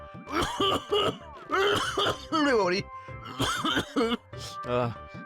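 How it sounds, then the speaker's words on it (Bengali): Repeated dry coughs come from a man at home in a comic Bengali household scene, bursting out in close, loud fits mixed with strained voiced sounds and talk. "শুধু শুধু শুকনো কাশি শুরু হয়ে গেল"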